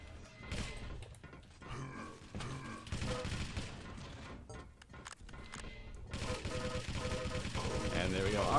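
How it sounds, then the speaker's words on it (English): Shotgun blasts and rapid gunfire from a Quake team deathmatch firefight crackle in dense bursts throughout, with grunts and a loud mix of game effects building toward the end. "has himself a shotgun, is going to face off against Drugbud"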